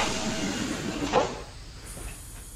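Palm Jumeirah monorail train departing, heard as a steady interior hiss and rumble with a brief clunk of closing doors in the middle, then a quieter running drone, with no voices.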